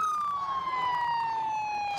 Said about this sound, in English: Sorry about the sirens that are blaring right now.